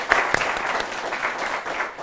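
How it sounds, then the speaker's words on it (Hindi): Studio audience applause on a TV business show, a short, even wash of many hands clapping at moderate loudness, without a voice over it. "एक बार उन सबके लिए जोरदार तालियां"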